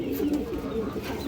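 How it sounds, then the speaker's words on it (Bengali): Rare khaki pigeon cooing in low, rolling phrases, close and steady throughout with no talk. "একটা রেয়ার খাকি কবুতর মাশাআল্লাহ"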